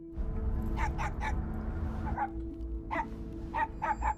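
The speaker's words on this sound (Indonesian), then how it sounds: "suasana hening itu tiba-tiba terpecah oleh suara gonggongan anjing milik tetangga" A neighbour's dog barking in a quiet house, with short bursts of barks in small groups, somewhat distant over a low steady hum.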